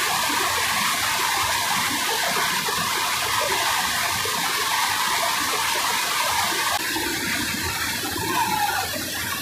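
Floodwater flowing past a bridge after heavy rain: a steady, loud broadband rush with no breaks, running the whole time without talk.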